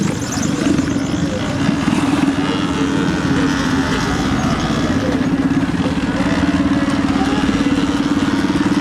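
A pit bike engine runs steadily nearby with a continuous buzzy drone, loud and unchanging throughout, with no talking.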